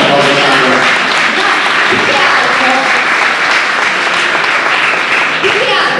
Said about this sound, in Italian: Dai, facciamo un applauso. Facciamo un applauso, Sakura.